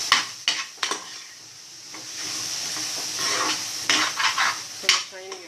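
Brinjal sautéing for a Tamil masala kulambu, stirred in a pan: repeated scraping strokes of the spoon against the pan over a steady sizzle, close and fairly loud, with no talking.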